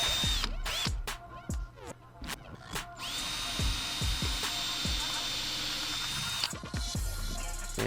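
A power drill works on a blacked-out Jeep Wrangler JK Unlimited with a steady, close whine, broken by sharp clicks and handling knocks.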